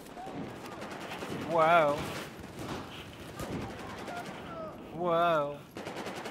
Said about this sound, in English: No idea where these shots are coming from, but they're flying in my dome piece.